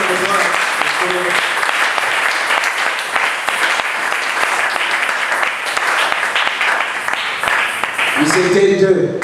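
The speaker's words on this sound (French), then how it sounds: "applaudissez pour la miséricorde." A church congregation applauds in loud, continuous clapping that holds steady for several seconds before a voice starts speaking over the tail.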